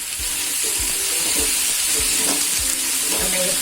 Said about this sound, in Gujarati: હવે ટમેટાની પ્યુરી નાખી દેશું